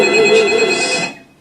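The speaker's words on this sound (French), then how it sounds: "Son téléphone est en train de sonner." A mobile phone rings loudly and close, a bright electronic ringtone sounding for about a second before cutting off.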